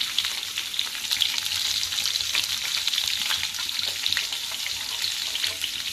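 Stuffed green chillies cook in a pan over a low flame, making a soft, steady sizzle and crackle with occasional light stirring, close and even throughout.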